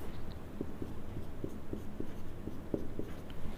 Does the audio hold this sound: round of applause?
no